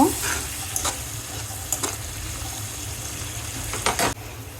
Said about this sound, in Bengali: মশলা একটু ভেজে ভালো করে ভেজে নিব।